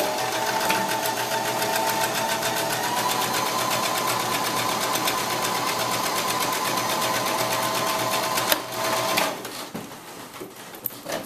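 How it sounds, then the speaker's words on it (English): A sewing machine stitching a scarf seam with back stitching at the start and end: a loud, steady rapid whirring hum runs nonstop, then stops near the end, followed by a few soft clicks and handling sounds. "I'm going to sew that at a regulation seam, back stitching at the beginning and at the end of the stitch"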